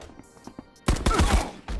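A rifle with an extended magazine fired in a video game: a few faint clicks, then a close, loud rapid burst of shots lasting under a second, followed by one more short burst.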